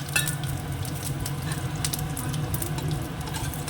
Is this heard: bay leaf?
yes